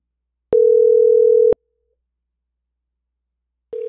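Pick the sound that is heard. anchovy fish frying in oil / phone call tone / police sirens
phone call tone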